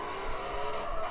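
Steady engine roar of a car drifting in CarX Street, with faint tire scrubbing and skid noise, close and continuous with no talk.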